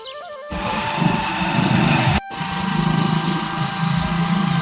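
A Honda motorbike rides out along a rough forest track, its engine droning steadily and close with a brief cut partway through, then resuming at an even running pitch.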